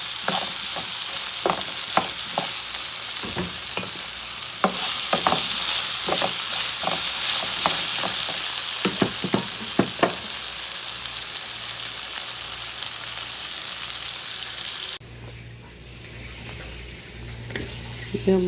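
Chilli potatoes frying with salt in a pan give a steady loud sizzle, broken by repeated scraping stir strokes for about ten seconds. The frying continues more quietly near the end.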